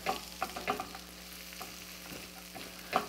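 Shakshuka ingredients hit a hot pan with a steady sizzle, overlaid by a few sharp clinks and stirring knocks near the start and end, moderately loud and close with no talking.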